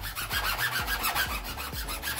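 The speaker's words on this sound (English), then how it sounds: "Gonna take some big files and some little files." Big and small metal files rasp back and forth over the sharp cut edges of copper pipe, a steady rhythmic series of rough strokes roughly three per second, close and continuous.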